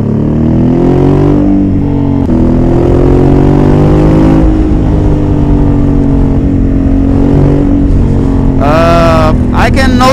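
A 2021 Honda Africa Twin with a DCT automatic gearbox, ridden on a race track, drones in a steady loud engine hum whose pitch rises and falls, under heavy wind noise, with a brief sharp revving burst near the end.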